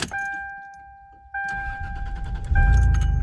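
An older car starts up: a two-tone door chime rings, then the starter cranks and the engine catches, settling into a loud, low rumbling idle nearby.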